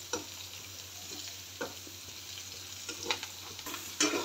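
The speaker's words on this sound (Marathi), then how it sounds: "हे थोडच्या तेलात अशा परतून घ्यायच्या." Whole red chillies sauté in a little oil, giving a steady soft sizzle close by with a few sharp stirring scrapes and clicks scattered through.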